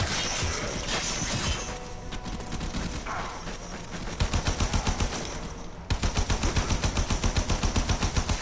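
Rapid automatic gunfire in the video game Warframe, loud and close, firing in dense sustained bursts with a brief break before another steady rattling stream, no talking.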